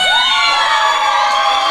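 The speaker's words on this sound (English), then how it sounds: "And the crowd definitely showing their appreciation" A wrestling crowd at a live show roars and cheers in a steady, loud wall of voices, with one rising shout standing out near the start.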